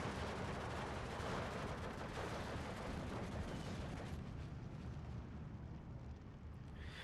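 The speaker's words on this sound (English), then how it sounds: "So now I've brought in the big gun. Misses its first shot, unfortunately." Heavy gunfire and booming explosions from a big gun in the Steel Division 2 war game, a dense continuous roar of battle filling the whole stretch and easing off slightly toward the end.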